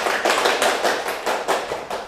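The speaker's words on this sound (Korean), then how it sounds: "박수 한번 쳐주시고" Lecture-hall audience applauding, a dense, close burst of many hands clapping at once with a steady rhythm that carries on for about two seconds.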